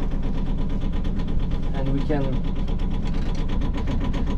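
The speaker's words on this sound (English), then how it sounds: "Hear the engine start to work?" Boat engine on a wooden liveaboard boat running steadily at close range, a continuous mid-pitched drone with a faint rhythmic chug, while people talk over it throughout.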